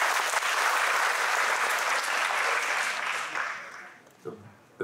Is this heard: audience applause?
yes